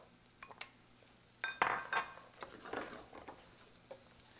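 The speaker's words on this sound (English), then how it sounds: "So as you can see, we're already stirring quite a bit" A spoon stirring radish risotto with rice, butter and onions in a pot, scraping and clinking against the metal in a few irregular strokes over a soft background sizzle.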